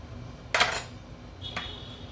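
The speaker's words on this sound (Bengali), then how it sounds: "আমি প্রথমে একটা পাত্র নিব, নিয়ে পাত্রের মধ্যে আলুটা ঢেলে দেব।" Potatoes drop into a cooking pot with a bright clattering rattle, followed a moment later by a lighter second clink of the pot; close and clear, with no talk.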